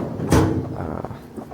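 A Barska biometric top-opening safe for knives and handguns has its lid pulled up and then carried open by a hydraulic actuator. The result is one sharp close thump of lid hardware, followed by a short softer mechanical settling and faint handling.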